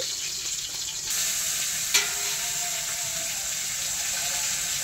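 Leafy greens (shak bhaja) fry in a pan in an Indian village home kitchen, a close, steady sizzle with a brief sharp stirring clink about two seconds in, no talk.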